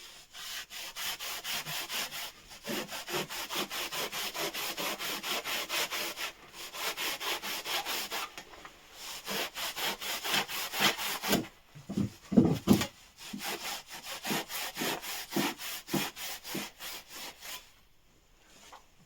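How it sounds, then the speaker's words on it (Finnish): Steady back-and-forth strokes of a handsaw cutting through a wooden frame board while building a small workshop in an old sauna, rhythmic and close, with short pauses between bursts of sawing. "Hiukan se nyt meni vinoon tuo sahaus"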